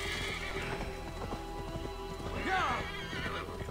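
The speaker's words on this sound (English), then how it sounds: "Horse." Horse in the video game Assassin's Creed Valhalla, with clip-clopping hooves at a steady rhythm, a loud whinny partway through, and faint background game sounds.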